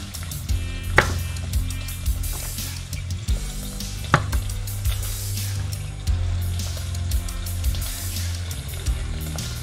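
A knife cuts the ends off a carrot for vegan minestrone, producing a few sharp, close chops against a board with a steady low background hum.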